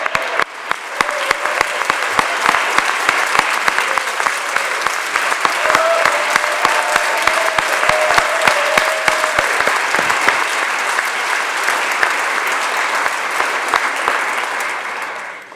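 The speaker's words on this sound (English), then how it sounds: "can we please give a round of applause to Jerry Brown?" An audience applauds for Jerry Brown at a swearing-in ceremony, loud sustained clapping from a large crowd, joined by a few brief whoops in the middle, then fading slightly toward the end.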